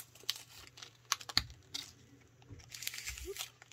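A Kinder Bueno Coconut bar, a wafer bar with a coconut layer on the bottom, is snapped and torn through the middle, giving a few sharp crackling crunches and crinkles up close, with no talking.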